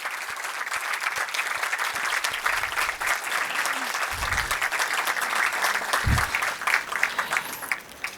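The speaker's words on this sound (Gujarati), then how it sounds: "A round of applause." A talk audience gives a round of applause, sustained dense clapping across the whole stretch, with a couple of low thumps and faint voices beneath it.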